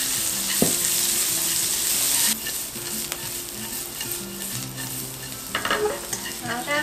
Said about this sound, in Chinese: 现在煸到姜已经卷起来了，然后那个香菇也已经有点像焦黄的时候，就可以放入木耳跟红萝卜